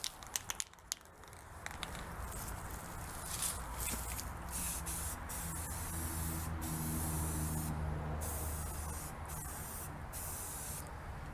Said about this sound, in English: we'll spray it with some rust reformer